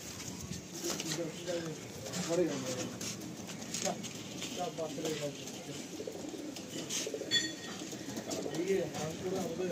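Madrasi pigeons are released while someone talks over them, with soft cooing and fluttering in the background and faint patter, all fairly quiet under the steady voice.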